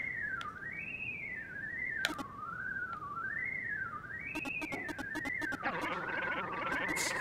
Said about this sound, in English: the whistling is so creepy